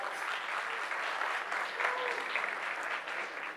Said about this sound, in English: Another round of applause for Santiago.